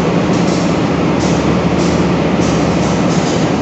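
Serayu passenger train pulling into Bandung station and coming to a halt, heard from on board as a steady, loud rumble of rail noise that persists with little change throughout.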